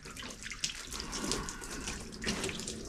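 Gallon jugs of water poured over a car door being prepped for paint, a steady splashing wash of liquid running and spattering across the panel, close and continuous for the whole stretch with no talking.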